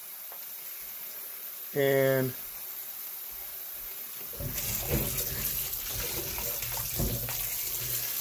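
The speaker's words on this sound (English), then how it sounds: "So just go ahead and get them under some water." Water from a tap running over Granny Smith apples being rinsed, a steady splashing hiss that starts partway through and continues, preceded by a brief spoken word and a short tonal sound.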